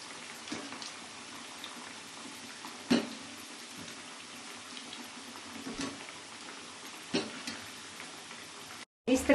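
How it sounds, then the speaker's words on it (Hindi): Raw potato snack pieces deep-frying in hot oil, a steady low fizzing bubble throughout with a few louder pops and crackles, heard close up. "तो इस तरह से हम इस नाश्ते को फ्राई कर लेंगे।"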